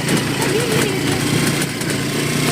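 A motorcycle engine idles loud and close with a steady rough drone on a rural road in Bukidnon, and a voice talks over it.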